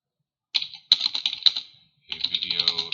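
Fingers tap quickly on a computer keyboard in two short bursts of close, crisp keystrokes separated by a brief pause.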